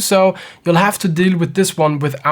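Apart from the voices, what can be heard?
None of the usual background noises is heard.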